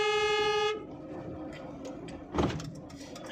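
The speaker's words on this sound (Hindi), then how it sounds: "लॉन्ग हॉर्न पुश करो" A car horn gives one long honk during a driving lesson, a loud steady tone that cuts off abruptly, followed by quieter traffic and road noise with a brief thump.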